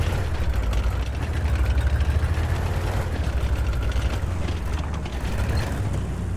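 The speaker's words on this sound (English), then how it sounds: "These little engines always sound like a lawnmower or something." Small tank engine idling in World of Tanks, a steady low rumbling drone with a mechanical rattle like a lawnmower, continuous and fairly loud throughout with no talking.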